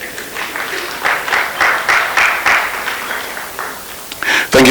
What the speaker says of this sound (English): clap for yourselves, the Gen Zs.